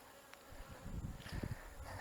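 Honeybees from a very strong hive fly around outdoors in late-season preparation for winter. Their buzzing is a faint, continuous drone that swells slightly toward the end, with no voices.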